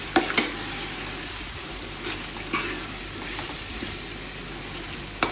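Lemon juice goes into sizzling Ambur mutton dum biryani masala, which is stirred, making a steady close frying hiss with a few sharp scrapes of the spoon against the pot.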